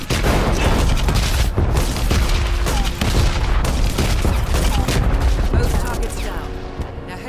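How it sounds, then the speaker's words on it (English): An APC gun firing in the video game Hitman, a loud, relentless barrage of heavy booming shots layered over rumbling impacts, close and continuous throughout before easing slightly at the end. "So we're going to use this APC gun now."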